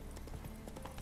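A horse gallops in a video game with a quick, steady clip-clop of hooves that is soft and even throughout, with no talking over it.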